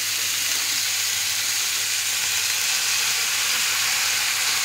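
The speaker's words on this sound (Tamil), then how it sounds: "சத்தம் பார்த்தீங்களா? எண்ணெயில் போடுறதுனால எப்படி சவுண்டு வருது" Steady, dense sizzling of onions and green chillies frying in hot oil, a continuous bright hiss with no pauses and no voices.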